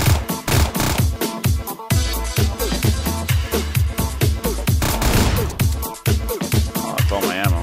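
Rapid volleys of gunshots from the top-down shooter Hotline Miami, a loud, dense run of sharp repeated bangs layered over a thumping synth music track with no pauses.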